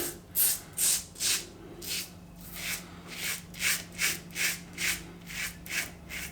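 A razor blade, a My-Blades Platinum in a 6S razor on plate 3, rasps through lathered whiskers in a steady series of close, rhythmic scraping strokes, about two per second, with no talk.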